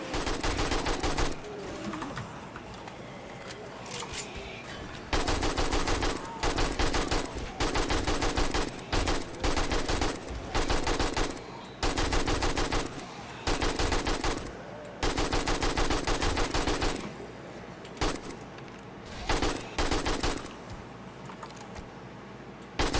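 Machine gun fire in the video game 7 Days to Die comes in long, loud, rapid bursts, broken by short pauses and quieter clicking between volleys.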